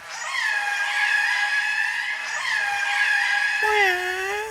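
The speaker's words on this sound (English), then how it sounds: "this scream." A long, piercing scream sample from an electronic music track rings out loud and sustained, wavering in pitch, then shifts to a lower, strained tone near the end.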